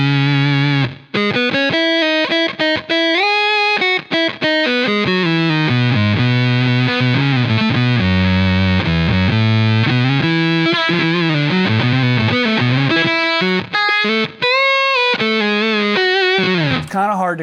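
Electric guitar runs through a Blue Box octave fuzz pedal modified to drop only one octave, giving a thick, synth-like single-note tone in loud, continuous distorted lines with brief gaps.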